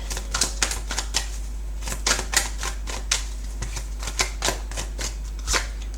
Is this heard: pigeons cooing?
no